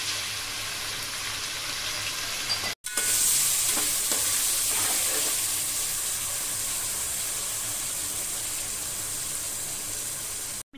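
Green chilies, ginger and garlic masala frying in a pan, a loud steady sizzle that runs throughout with a brief cut near the start and faint stirring scrapes underneath.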